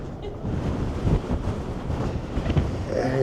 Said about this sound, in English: It's windy out here for sure.